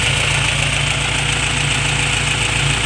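A car engine fitted with a new homemade intake idles steadily up close, a loud, even mid-low rumble with a fine rhythmic pulse and no change in revs.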